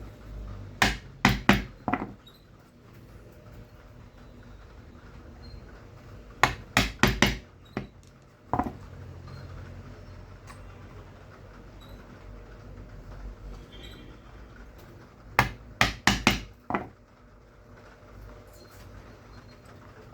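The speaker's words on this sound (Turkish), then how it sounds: "Ve buna 3 tane delik deliyorum." Sharp metallic strikes of a hole punch being hammered through a leather knife sheath, heard in three close bursts of rapid taps separated by quiet pauses.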